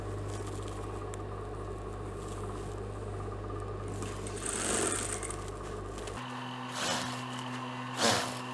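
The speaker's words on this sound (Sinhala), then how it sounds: "දැන් අපි අංශය මහන්න පටන් ගමු." A sewing machine stitches a culotte skirt with a steady, close whirring hum, then stops and gives a few short bursts of stitching; no talk.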